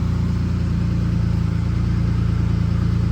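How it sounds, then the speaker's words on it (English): A Jeep engine idles steadily during a check-engine-light diagnosis for a P0456 evaporative leak code, with a loud, even low rumble and a regular pulsing throb and no talk over it. "So I already have the engine running"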